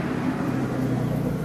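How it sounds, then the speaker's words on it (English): A car passes by a house's front porch, a steady close engine and tire rumble that stays loud throughout with no voices. "The car drove by"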